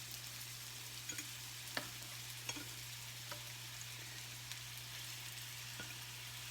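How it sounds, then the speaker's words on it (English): Stuffed meatballs sizzle and fry in olive oil in a hot pan, a steady close crackle with small pops scattered throughout and no voices. "So we're going to drop these meatballs in here. You can hear that sizzle."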